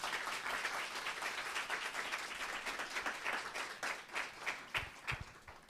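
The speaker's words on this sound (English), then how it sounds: "can we please give our panelists a round of applause?" An audience applauds panelists at a youth mental health forum, steady dense clapping throughout, with a few louder individual claps near the end.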